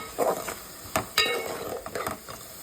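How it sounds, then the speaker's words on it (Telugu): Sliced onions frying in oil in a pan, a close sizzle broken by a few scraping stirs and light metallic clinks. "ఇందులో ఆనియన్స్ వేసి బ్రౌన్ కలర్ వచ్చేవరకు వేయించుకోవాలి."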